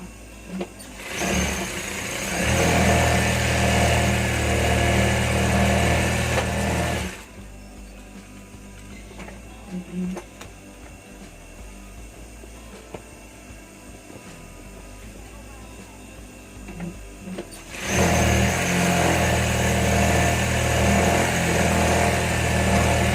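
A sewing machine stitches a shirt sleeve in a loud, steady whirring run, stops for about ten seconds of quiet handling noises, then starts again and runs continuously to the end.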